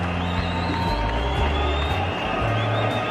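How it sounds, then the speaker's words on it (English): A large cricket stadium crowd at a 2007 World Cup match between Sri Lanka and Bangladesh lets out a sustained, dense roar of groaning reaction, steady and fairly loud with a broadcast commentary voice underneath. "Disappointment in the crowd."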